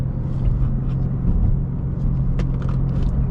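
A 2026 BMW G80 M3 drives along with a loud, steady low engine and road rumble from inside the cabin, with a few faint higher clicks over the constant drone.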